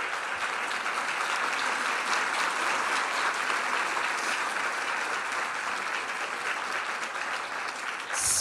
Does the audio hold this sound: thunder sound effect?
no